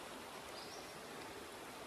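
Creek water flows steadily on a hiking trail crossing, a continuous broadband rushing and burbling that stays close and even throughout with no voices.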